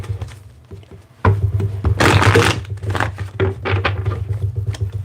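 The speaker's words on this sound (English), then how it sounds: "Let's get 3 more shuffles." Tarot cards being shuffled up close, a crisp riffling burst followed by softer patting and sliding, over a low steady hum.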